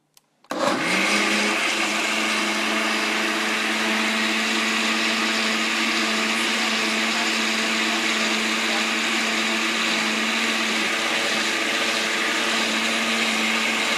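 A blender runs at high speed liquefying homemade tamale sauce meant to coat a pork filling, starting abruptly after a brief click and holding a loud, steady whirring drone with a strong hum throughout, no voices.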